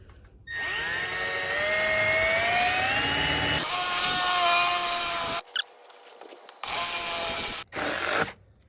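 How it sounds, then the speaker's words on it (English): A power drill whines loudly, its pitch rising as it bores through the metal roof of a Mercedes Sprinter van, then stops and restarts in a couple of short bursts. "we're going to go ahead and drill a hole right in this spot."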